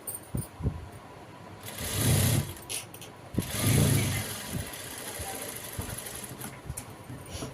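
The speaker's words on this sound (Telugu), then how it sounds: "మళ్ళీ ఇంకొక కుట్టు మళ్ళీ పై వైపు నుంచి ఇంకొక కుట్టు వేద్దామండి" A sewing machine stitches a saree blouse in two short whirring bursts a couple of seconds apart, moderately close, with quieter handling noises between them.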